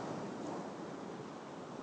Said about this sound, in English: And somehow the bigger the wave, the nicer.